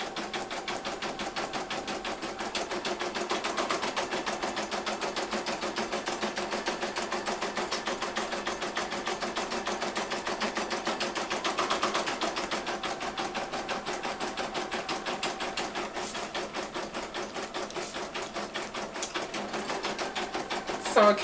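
A Brother embroidery machine stitches letters at a rapid, even needle rhythm, a steady mechanical chatter that continues without pause and stays close and moderately loud.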